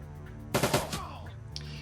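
Turret gunfire in the tactical game Shadowrun: Dragonfall, a quick rattling burst of automatic shots lasting about half a second over a low hum, followed by a short trailing echo.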